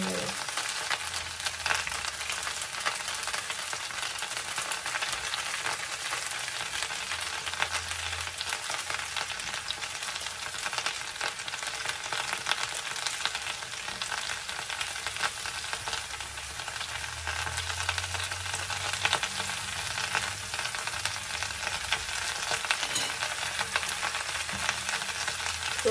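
Chopped onions frying in a pan give off a continuous crackling sizzle with occasional stirring, steady and close throughout the long stretch with no voices.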